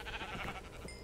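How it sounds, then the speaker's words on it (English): Sheep bleating in Minecraft with the Better Than Wolves mod, a short nasal bleat in a lush farm area with cows nearby, heard against a noisy, busy game soundscape. "And there's cows, there's sheep."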